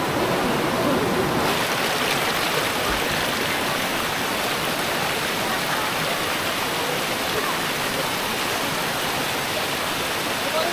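Steady, loud roar of falling water at Bolinao Falls in Pangasinan, a dense unbroken rush from a waterfall and stream heard close up for the whole stretch, with no talk over it.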